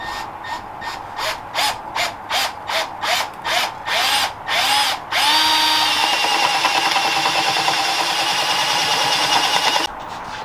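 Power tool cleaning up a catch can fitting on an F100, running in short pulsed bursts, then one sustained whine that spins up and holds before cutting off, loud and close.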